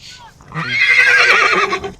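A horse gives a loud, close whinny at a horse race, rising and wavering for over a second, with a voice speaking briefly just before it.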